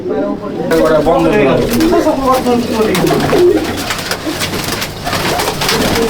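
A loft full of pigeons in Jangipur, Murshidabad keeps up a dense, rolling cooing chorus close by, while someone speaks over the birds for most of the stretch.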